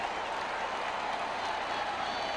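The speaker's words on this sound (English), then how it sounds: "The entire unit comes on and the crowd recognizing it here at Doak." A stadium crowd at Doak Campbell Stadium during a Florida State college football game cheers the offense as it takes the field, a continuous broad roar mixed with applause and faint voices in the distance.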